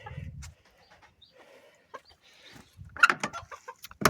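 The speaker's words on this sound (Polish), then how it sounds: "Tu kury." Scattered soft clucks and chirps from several chickens, with a brief low rustle at the start and a louder burst of fowl calls toward the end.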